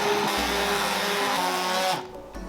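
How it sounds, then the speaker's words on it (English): A stick blender purees potato and leek soup in a pot, a loud steady whirring hum with a churning, slightly pitched motor tone that cuts off abruptly near the end, leaving a brief quiet thud. "I'm going to blend it using a stick blender"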